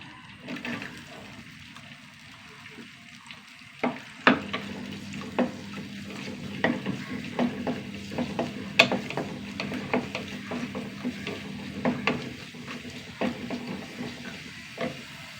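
About ten small shallots fry in oil in a pan, with a soft steady sizzle under repeated sharp clicks and scrapes of a spoon stirring against the pan. No one speaks.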